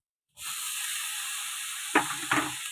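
Cooked squid for Kerala kanava thoran tipped into a hot pan, setting off a loud, steady hiss of sizzling, with two short scraping clatters near the end.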